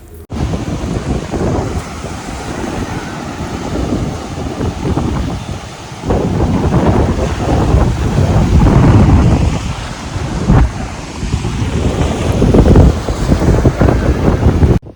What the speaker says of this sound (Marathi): तुम्ही वरतून बघू शकता समुद्राचे दृश्य, खवळणारा समुद्र अतिशय सुंदर दिसतोय